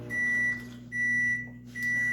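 A kitchen microwave oven hums steadily while three long, loud, evenly spaced beeps ring out close by, each sustained tone separated by brief gaps.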